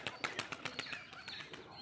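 A female pigeon with red plumage flaps its wings as it is released from a home loft. The quick, rhythmic wingbeats are faint and close by, with no voices.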